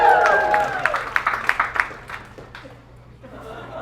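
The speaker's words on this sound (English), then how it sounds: "thanks for that premature applause" A comedy club audience claps in a short burst of scattered applause with some crowd murmur, fading out after a couple of seconds.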